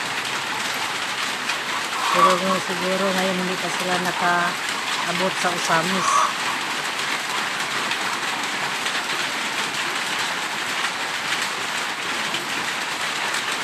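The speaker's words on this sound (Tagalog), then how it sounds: "ang lakas na naman ang ulan ngayon. Hanggang ngayon umuulan pa." Heavy rain falls in a steady, dense hiss that runs through the whole clip without a break, with a person talking over it near the start.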